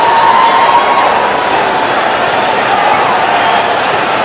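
A packed cricket stadium crowd roars and cheers after a six from Yuvraj, a dense, loud, sustained wall of voices and noise with no pauses.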